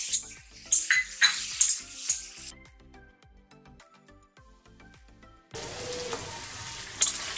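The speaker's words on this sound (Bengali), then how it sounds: "ঘুগনির আলুটা ভেজে নেবো আগে টমেটোটাও দিয়ে দেবো" Potatoes for ghugni fry in a pan. A run of clinking utensil and pan knocks gives way to a loud, steady sizzle near the end.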